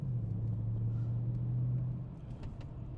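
A Mercedes-Benz C63 AMG W204 V8 pulls with a deep, steady engine drone, close and even, easing off slightly toward the end.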